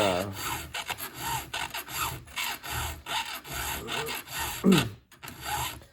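A STIHL and Holzfforma chainsaw chain is sharpened with a hand file, quiet repeated rasping strokes in an uneven rhythm, close and alone.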